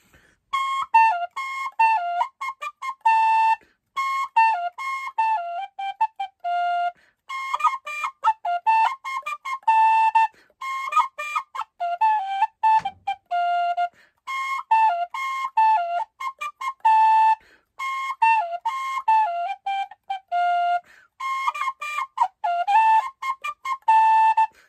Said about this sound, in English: This is my oldest whistle.